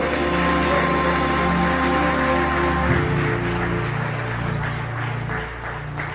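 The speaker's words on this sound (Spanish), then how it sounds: "Denle un aplauso fuerte a Jesús, por favor." A church congregation claps loudly for Jesus while sustained keyboard chords ring underneath, the applause continuing steadily and thinning a little toward the end.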